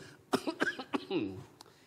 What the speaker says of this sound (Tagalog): Patawad po, ayaw kong inuubo.